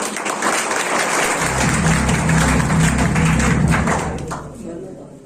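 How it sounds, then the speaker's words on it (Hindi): A seminar audience claps loudly and steadily for themselves, a thick roll of many hands with a low hum and thumps beneath it, swelling and then tapering off toward the end. "आप अपने लिए ताली बजाइए"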